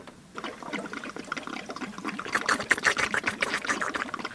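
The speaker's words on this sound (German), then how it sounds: "wir füllen jetzt die Kanister nach" Fuel glugging and splashing into canisters close by, a steady gurgling pour that grows louder and more bubbly partway through.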